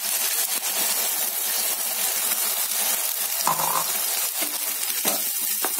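Mint paste sizzles steadily in a hot pan while being fried for Mughlai biryani, a continuous close hiss with occasional light clinks and stirring scrapes, no talking.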